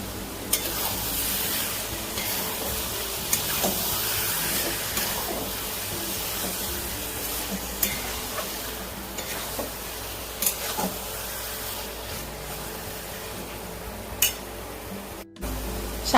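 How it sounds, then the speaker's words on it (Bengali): Chicken fries and sizzles in a pan as it is stirred and cooked down with sour yogurt, giving a steady hiss with scattered scraping clicks of the spoon. "চিকেনটা দিয়েও আমি আবার ভালো করে কষে নেব। টক দইটা দিয়ে দিচ্ছি।"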